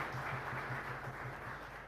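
A congregation at Mass applauds together: dense, steady clapping that sounds like a roomful of hands, with a low hum underneath and no voices over it.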